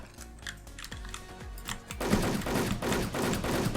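Gunfire from a weapon in the video game Wolfteam, a run of rapid clicking shots followed by a denser, louder burst of continuous automatic fire.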